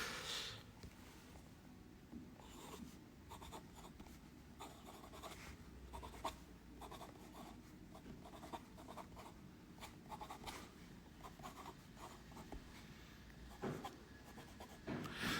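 A Sailor Naginata Togi fountain pen with a medium fine nib scratches across paper in close, faint strokes, a continuous soft texture broken by small ticks, with no voices.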